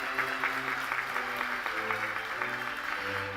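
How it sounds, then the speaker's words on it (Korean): Audience applause fills an award ceremony for the 2026 Samsung Ho-Am Prize, a dense steady roar of many hands clapping close and loud throughout, with faint speech-like traces beneath. "윤태식 교수님께 아낌없는 박수를 부탁드립니다"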